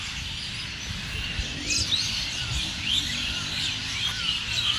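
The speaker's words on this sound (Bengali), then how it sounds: "সন্ধে হয়ে গেছে বন্ধুরা পাখিদের একটু কিচিরমিচির আওয়াজ শোনো" Birds chirp at dusk beside Beleghata Lake in Kolkata, several thin, high tweets scattered over a low murmur of ambient noise, moderately distant.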